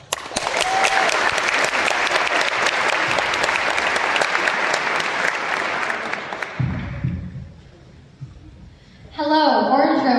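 Loud, sustained audience applause at an eighth-grade promotion ceremony welcoming a student speaker, steady clapping for about six seconds before tapering off, followed by a voice beginning to speak.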